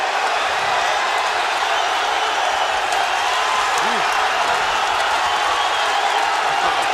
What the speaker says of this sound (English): A deafening roar from the crowd at the Videotron Center in Quebec City.